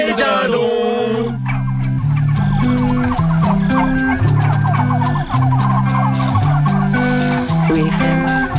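Turkeys gobble in a loud, dense chorus of rapid throaty warbling calls layered over steady low droning sounds, close and continuous with no speech.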